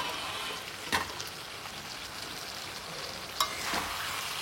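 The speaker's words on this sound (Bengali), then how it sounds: "এটাকে নাড়াচাড়া দিয়ে নেব।" Chicken masala for morog polao sizzling quietly in a pan, a soft continuous frying hiss with two brief scraping clinks of a spoon against the pan as it is stirred.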